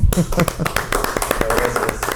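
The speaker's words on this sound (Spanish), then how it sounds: "vamos un aplauso" A burst of audience clapping at a panel discussion event, a dense patter of hand claps running through the whole moment with a voice speaking over it.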